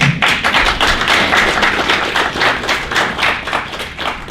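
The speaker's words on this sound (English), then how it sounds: "So I just really want you guys to give yourself a round of applause for that, please." An audience claps together in a dense, steady round of applause at a talk on the green economy, loud and close, lasting throughout with no voices over it.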